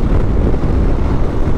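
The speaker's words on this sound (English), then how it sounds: "Wow, it's still so windy, I can't believe it." Strong, gusting wind buffets a motorcycle on the road in Argentina, a loud, constant low roar of wind noise across the microphone with no voices.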